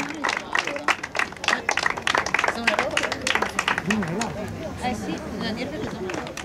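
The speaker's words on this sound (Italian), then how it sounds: "un applauso per ricevere gli omaggi che ti riguardano" Audience applause at the Miss Trieste pageant, a dense, steady run of clapping that carries through the whole stretch, with people talking and calling out over it.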